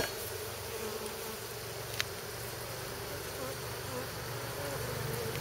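A steady hum of many buzzing bees fills the space, close and continuous, with a faint click partway through.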